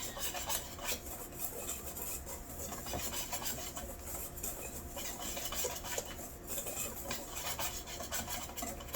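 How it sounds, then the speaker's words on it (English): A baking mixture is whisked in a bowl, giving a steady, continuous scraping and rubbing sound that stays close and fairly even throughout, with no voices. "we're going to go ahead and mix that together. Whisk, whisk, whisk."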